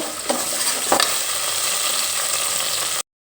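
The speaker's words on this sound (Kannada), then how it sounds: "ಈಗ ನೆಕ್ಸ್ಟು ನಾವು ತೊಳೆದಿಟ್ಕೊಂಡಿರೋಂಥ ಬಟಾಣಿ ಹಾಕ್ಕೋಬೇಕು. ಹಾಕ್ಕೊಂಡು ಮಿಕ್ಸ್ ಕೊಟ್ಕೋಬೇಕು." Washed green peas tipped into hot oil and stirred in a pan, giving a loud steady frying sizzle close by, with a couple of scraping spoon strokes early on before it cuts off abruptly.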